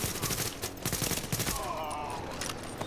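Rapid gunfire in Tom Clancy's The Division in the Dark Zone, dense bursts of automatic shots over the first half, then fading into a steady combat din with a quiet voice beneath.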